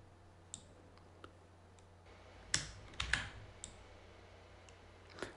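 Keystrokes on a computer keyboard during an After Effects editing session: a few sparse, faint clicks, then a louder cluster of several quick taps near the middle and another click at the end, with no talking.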